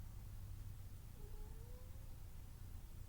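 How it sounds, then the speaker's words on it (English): A cat meows faintly in one drawn-out call, trying to get in, heard over a steady low hum in a quiet room. "My cat's trying to get in."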